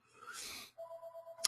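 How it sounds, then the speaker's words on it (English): A telephone ringtone sounds faintly in a quiet room, a steady electronic tone pulsing in short beeps after a breathy rustle, ending with a brief bright chime. "Sorry about the phone here. It'll stop ringing in just a second."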